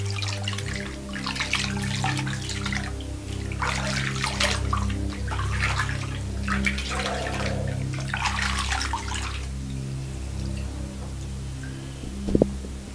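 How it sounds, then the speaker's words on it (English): Hands splash and wash in a basin of water during an indoor film scene, with steady swishing and trickling that comes in bursts for about ten seconds, then fades to quiet with a brief sharp knock near the end. "Wash them inside this water."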